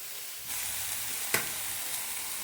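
Paneer fries in a pan with a steady close sizzle, broken by a single sharp crackle or spatula tap partway through.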